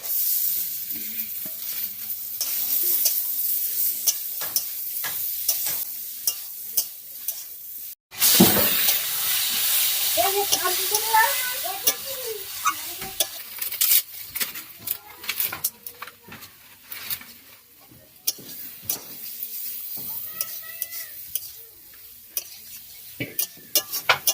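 Potatoes fried and stirred in a pan over a village cooking fire, with steady sizzling and repeated scraping stirs, a brief louder clatter near the start of the stirring, and no talk.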